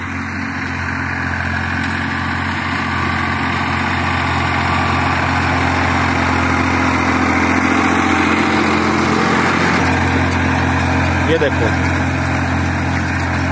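Massey Ferguson 1035 tractor pulling a 14-disc harrow through soil, a loud steady diesel engine drone close by throughout, with someone speaking briefly over it.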